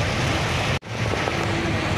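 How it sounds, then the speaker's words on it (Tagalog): Heavy rain pours steadily on a vehicle during a road trip in Batangas, a loud, dense, continuous wash that cuts out for an instant midway before resuming. "Ang lakas ng ulan guys. Inaabot kami ng malakas na ulan."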